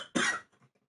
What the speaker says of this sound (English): Coughing up dust out here.